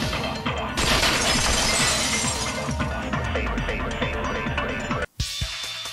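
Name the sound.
vase shattering in Danganronpa 2 video game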